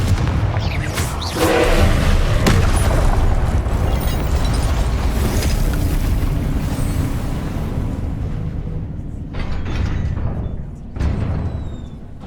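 A Confringo spell explodes in the Hogwarts Legacy video game, a loud, sustained booming roar with rumbling blasts that swell and fade, followed by a couple of sharper bursts near the end.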